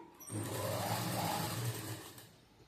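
A sewing machine runs one short burst of top-stitching on a four-tuck blouse, a whirring motor hum that rises, holds for about two seconds and winds down, fairly quiet and close.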